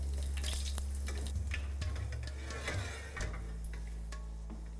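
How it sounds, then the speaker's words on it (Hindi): Dry red chillies and a bay leaf frying in oil, a soft steady sizzle with scattered crackling pops and ticks, close and faint, with no talking. "तेल में जी सबसे पहले गई सूखी लाल मिर्च, साथ में गया तेज पत्ता।"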